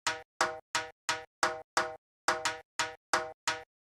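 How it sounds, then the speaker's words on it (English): Two short percussion samples repeat in a tight beat, about a dozen crisp clicky hits with brief tonal bodies, evenly spaced and broken by one short pause. "The next sound we have here are these two little percussion things, which sound like this."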